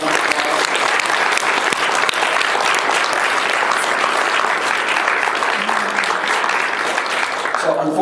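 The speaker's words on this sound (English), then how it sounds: "can we please give one more massive round of applause?" Loud, dense applause from an audience after a lecture at a school in Singapore, a steady sustained roar of many hands clapping close by that starts to taper off at the very end.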